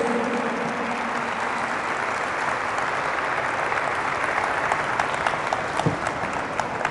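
Strong congregational applause at a Catholic church service, a continuous dense wash of many hands clapping, steady and full throughout with a faint murmur of voices underneath.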